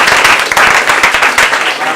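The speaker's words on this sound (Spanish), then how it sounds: "Les pido que le puedan dar un fuerte aplauso," An audience at a lecture on independent candidacies gives a strong round of applause, loud and close, with individual claps audible in a busy, steady rhythm.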